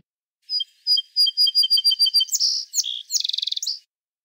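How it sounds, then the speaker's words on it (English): Close, clean bird song: a series of evenly repeated thin whistled notes, then louder buzzy phrases and a fast rattling trill at the end, alone with no background sound. "songs are vocalizations that birds use to attract mates and set up and defend their territories"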